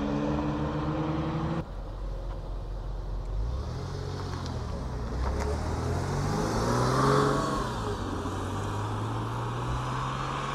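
Porsche Boxster flat-six engine revving and driving past at an outdoor farm shop car meet, rising and falling engine notes with a distinct throttle blip early on, moderately close, over background crowd ambience.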